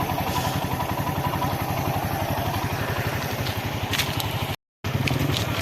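A motorcycle engine runs steadily and loudly during an off-road water crossing, its rapid chugging pulse continuous throughout, with splashing clatter and a brief dropout near the end.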